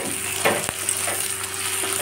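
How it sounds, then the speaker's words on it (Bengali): Capsicum frying in a pan for chili chicken, giving a steady broadband sizzle with a few soft stirring scrapes, close and continuous with no talking. "ক্যাপসিকামটা একটু ভাজা ভাজা না হলে বেশ ভালো লাগে না, এটা একটু ভেজে নিই"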